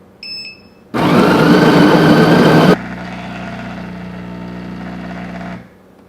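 A Bellucci Slim Caffe compact bean-to-cup automatic espresso machine brewing a strong long espresso: a few short beeps, then a loud whirring grind or pump burst for about two seconds, followed by a steadier, quieter mechanical hum that cuts off.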